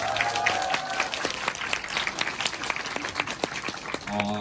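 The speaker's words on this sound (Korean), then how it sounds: "큰 박수 한번 치고 시작하도록 하겠습니다" A roomful of office workers at a recruiting lecture breaks into big applause, a dense patter of many hands clapping steadily with sharp individual claps standing out, before a voice returns near the end.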